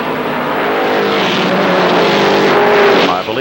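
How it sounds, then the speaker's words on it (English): ARCA Supercar Series race cars with mixed V6 and V8 engines race at Kil Kare Speedway, a loud continuous engine roar swelling slightly as cars pass, with a commentator's voice faintly beneath. "V6s, V8s, combination of the 2 in this ARCA Supercar Series field."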